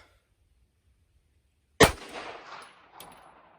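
A single sharp 9mm pistol shot fired from a 2.5-inch barrel with Allegiance OneStrike ammunition bursts loud and close out of near silence, then rings off into a fading echo with a faint later clink.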